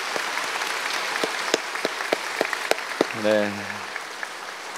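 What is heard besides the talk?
congregation applauding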